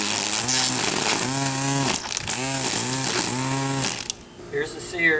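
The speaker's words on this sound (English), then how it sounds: "The auto trimmer seems to be feeding the line just right." A cordless 18-volt battery string trimmer with an auto line feed runs loud and close, its whining motor rising and dipping in repeated surges before cutting off near the end.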